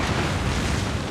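A torpedo explodes in the naval combat game World of Warships as a short, dense, loud roar that fills the whole moment.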